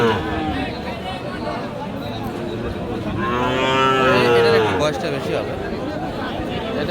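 A Sahiwal bull calf moos loudly at a busy cattle market, one long, drawn-out call rising midway over steady crowd chatter and background speech.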